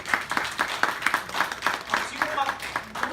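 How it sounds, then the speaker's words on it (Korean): A lecture audience claps in a light, uneven rhythm, with individual hand claps standing out and some murmuring underneath. "박수 한번 주세요."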